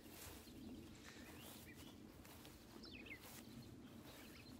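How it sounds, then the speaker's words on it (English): A brown thrasher calls in an orchard garden during spring bloom, its clear chirping phrases faint and distant over steady outdoor background noise. "Brown thrasher calling there."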